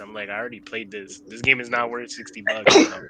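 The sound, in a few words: sneeze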